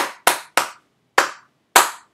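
Five sharp hand claps in an uneven rhythm, tapping out a short exercise from a rhythm book for a guitar lesson; each clap is crisp and close, separated by brief silences.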